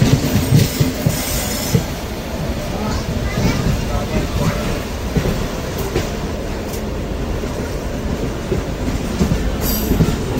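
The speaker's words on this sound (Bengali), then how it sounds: "লোকাল ট্রেনে, মেমু লোকাল।" A MEMU local train pulls into Mysore station, with a continuous loud rumble of wagons, rhythmic wheel clatter and occasional high squeals from the wheels, heard from on board.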